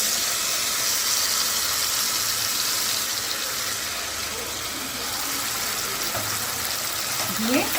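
A paste of tomato, ginger, cashew and white sesame hisses and sizzles in a hot kadai, a steady, close steamy frying noise continuing evenly throughout.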